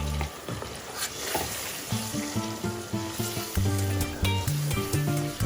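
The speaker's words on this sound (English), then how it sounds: "I'm going to fry it with the tomato paste and then the tomato together" Blended, pre-cooked tomatoes fry with tomato paste for a Nigerian beef stew, giving a steady, close sizzle with scraping stirs, under a strong run of tonal background music.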